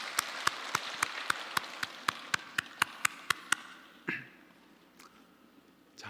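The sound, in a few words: congregation applause in church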